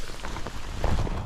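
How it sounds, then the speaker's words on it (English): Steady rain falls on a hike through a nature park, a dense, even patter of drops with a slightly heavier splash of impacts near the end, with no voices. "we are still experiencing rain"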